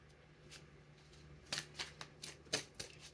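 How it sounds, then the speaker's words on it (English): Tarot cards shuffled and drawn one at a time, a quiet soft rustle followed by several distinct close flicks and snaps in quick irregular succession, with no talking. "I'm gonna pull a card for each one."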